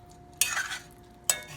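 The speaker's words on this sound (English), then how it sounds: "now we're gonna go ahead and add the shrimps back to the pot" Shrimp drop back into a pot of curry with two sharp splashy clatters of spoon against pot, each fading quickly, over a quiet background.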